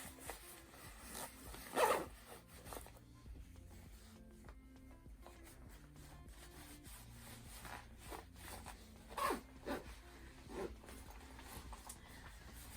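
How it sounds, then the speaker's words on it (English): A zipper on a top is zipped up, giving several short rasping zips spaced across the clip with quiet rubbing of fabric between them, close and alone. "you can just hold this thing down here and zip it up"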